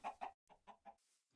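A chicken in the Minecraft video game clucks in a short series of clipped, close bursts, two strong then several softer, with no talking.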